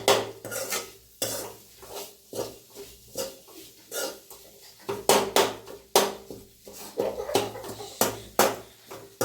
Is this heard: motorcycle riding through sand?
no